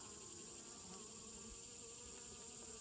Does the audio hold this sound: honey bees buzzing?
yes